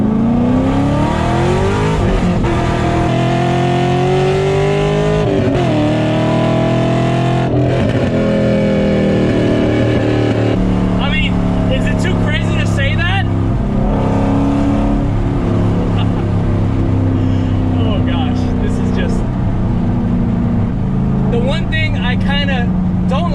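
A Gen 5 Camaro SS LS V8 engine rumbles loudly through an always-loud exhaust and revs in rising and falling sweeps, with a person talking intermittently over the exhaust noise.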